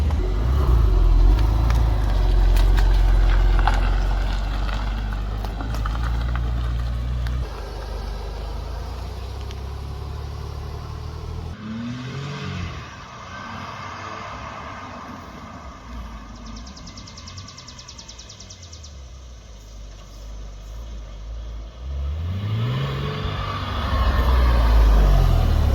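A cheap Porsche 911 driving and accelerating, heard from inside as a steady low engine and road rumble that rises and falls with gear changes, loud and continuous with no talk.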